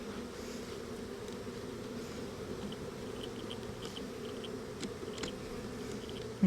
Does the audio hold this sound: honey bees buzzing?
yes